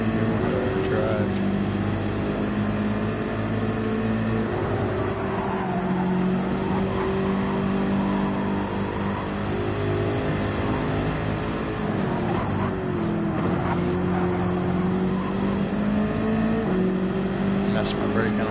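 A race car engine drones steadily in Gran Turismo 7, its pitch rising and falling through gear changes, with faint tire noise beneath someone talking over the racing.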